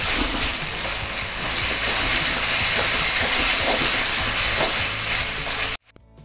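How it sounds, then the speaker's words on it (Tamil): Ginger garlic paste fries in a pan with a loud, steady, dense sizzle that fills the clip close up, then cuts off abruptly near the end. "இஞ்சி பூண்டு போட்டு பச்சை வாசனை போற வரைக்கும் ஃப்ரை பண்ணிக்கோங்க"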